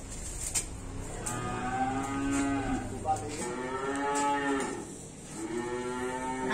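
Cattle at a livestock dealer's yard, among them Limousin bulls, cows and heifers, give several long, drawn-out moos one after another, fairly close and clear over a low background murmur.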